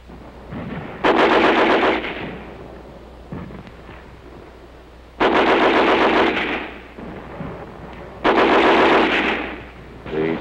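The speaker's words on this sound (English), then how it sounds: "And there was firing up and down the streets." Machine gun fire in WW2 street fighting in a Belgian town: three loud sustained bursts of rapid automatic fire, each lasting about a second, separated by quieter gaps with distant rumble.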